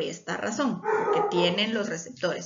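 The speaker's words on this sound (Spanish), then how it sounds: "perdón por los perros." Dogs bark and yip in the background, their high yelping running under steady close speech from someone giving a lecture.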